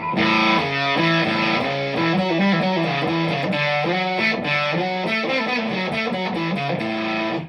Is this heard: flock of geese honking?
no